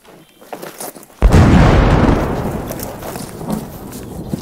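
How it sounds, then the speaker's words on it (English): Thunder in theHunter: Call of the Wild, a hunting video game, strikes as a sudden loud boom like a cannon shot, then rolls and rumbles for several seconds as it slowly fades, after some quiet game ambience. "Man, do you hear that thunder? That was awesome. Sound like a cannon going off."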